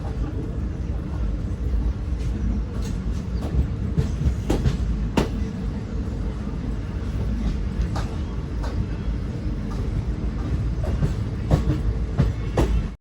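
A train hauled by a WDG4 diesel locomotive rolls into Kabakaputhur railway station, a steady rumble of wheels on rails with scattered clicks and clanks, while a voice talks over it.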